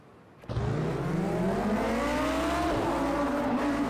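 Race cars surge forward together at a rolling start in Project CARS 2 at the Algarve circuit, Super Trofeo class, engines roaring loud and steady with rising pitch as they accelerate.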